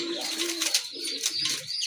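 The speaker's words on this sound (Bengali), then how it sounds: "দেখেন এক জোড়া রাজগোল্লা কবুতর" A pair of Raj Gola pigeons coo up close, a couple of short throaty rolling calls in quick succession with soft rustling between.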